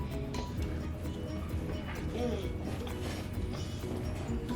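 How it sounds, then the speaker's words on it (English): A clothes dryer runs indoors with a continuous mechanical rumble and rhythmic tumbling clanks and creaks, while faint voices talk over it. "That's the washer, girl. I mean, that's the dryer."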